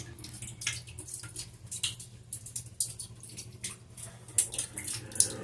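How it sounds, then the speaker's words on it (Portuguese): A leaking shower valve with a worn rubber washer drips into the shower, giving faint, irregular splats over a low background hum. "chuveiro pingando."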